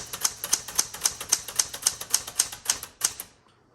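Typewriter keys on a like-new 1973 Galaxie Twelve strike in a steady, even rhythm, about a dozen sharp mechanical clacks close up, then stop.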